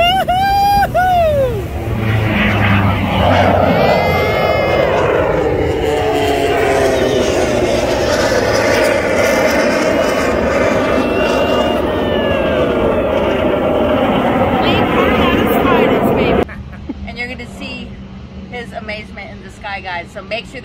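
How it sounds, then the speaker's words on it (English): A Yak 110 aerobatic aircraft roars past at an air show, a loud sustained engine drone with shifting pitch that cuts off abruptly near the end, with people speaking and cheering over it. "This is what you're going to hear. Yak 110 coming hot."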